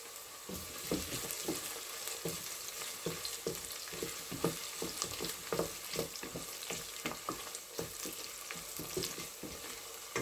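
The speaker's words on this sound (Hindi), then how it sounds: "और हमारे प्याज जो हैं वो हल्के हल्के से फ्राई हो रहे हैं।" Onions frying gently in a pan for a breakfast halwa puri dish, a steady, soft sizzle with light crackles and occasional stirring, faint and without speech.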